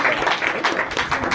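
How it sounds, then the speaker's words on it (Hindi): Applause from an audience at an IMC meeting in Badagaon, a steady dense patter of many hands clapping throughout. "ताली बजाइए इसके लिए।"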